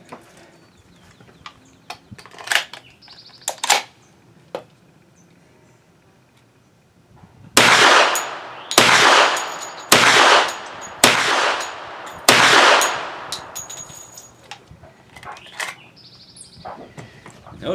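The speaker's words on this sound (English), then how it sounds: "So I'm going to shoot the 200 grain hard cast bear load." A Hi Point 1095 10mm carbine fires 200 grain hard cast bear loads: five loud, sharp reports in quick succession, each with a short ringing tail, following quieter handling clicks and knocks.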